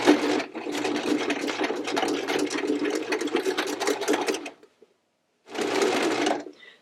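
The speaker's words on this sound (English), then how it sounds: "You can kind of see I'm making a curved seam, and all I have to do is pull slightly with my hand, and the machine will make the curve for me." A sewing machine runs steadily stitching a curved seam through a terry cloth hooded towel, a dense rapid whir for several seconds, then a brief pause before it starts again, close and loud.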